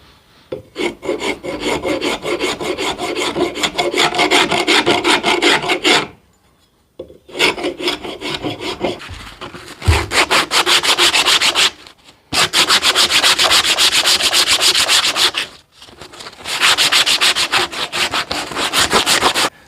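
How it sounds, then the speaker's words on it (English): A rasp and sandpaper smooth a wooden machete handle in long, steady rhythmic scraping strokes, loud and close, in several bursts broken by short pauses. "So rasp and sandpaper, this handle feels pretty good."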